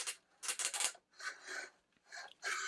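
Folding out the plastic wings of a Yzoni portable LED worklight gives several close, short scraping and rubbing bursts separated by brief pauses, with no talk.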